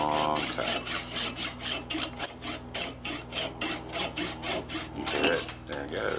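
A hand saw makes long cuts through wood while a bookcase is being built. Steady back-and-forth rasping strokes repeat in an even rhythm, up close and moderately loud.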